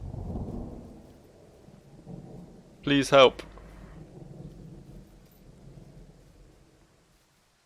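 Thunderstorm in the video game Firewatch, a low rumble of rain and distant thunder underneath, with a voice speaking briefly over it and a sharp clattering burst midway before the storm fades quiet.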